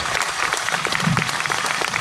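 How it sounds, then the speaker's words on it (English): Clapping from a crowd at an outdoor political rally fills a short burst, steady and fairly loud throughout. "give them a big round of applause and say thank you very much for everything you've done"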